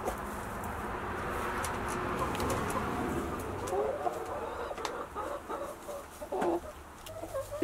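Chickens in a coop with an automatic feeder make soft, faint clucks and short calls scattered over a low background hum, the calls growing more frequent toward the end.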